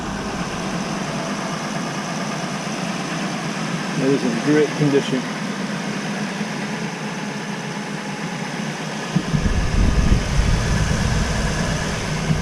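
A 2002 Toyota Land Cruiser V8 idles steadily throughout while someone speaks briefly over it; the low throb deepens and grows louder near the end.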